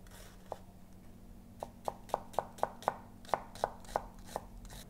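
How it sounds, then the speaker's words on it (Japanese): A knife thinly slices an onion on a cutting board in about ten crisp, evenly spaced chops that quicken into a steady rhythm, close and clear against a quiet room. "芯の部分を落として薄切りにします。"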